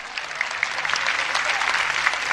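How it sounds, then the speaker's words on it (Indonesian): Loud applause from a church congregation during a sermon, dense continuous clapping that stays strong and even throughout with no talking over it. "Ya, tepuk tangan yang keras. Ayo yang keras."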